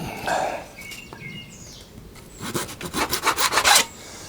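Small cutters or a knife nipping and trimming the end of a part on a Warbirds Replicas Hawker Tempest model aircraft, heard as close, soft scraping and a burst of quick rhythmic rasping strokes near the end.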